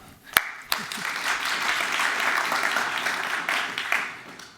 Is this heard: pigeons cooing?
no